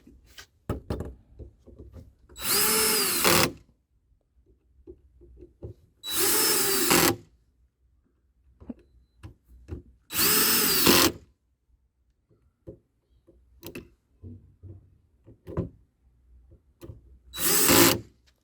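A power drill driving the door lock screws on a Thor Majestic RV runs in four short bursts, each about a second long, with quiet gaps of light clicks and handling noise between them.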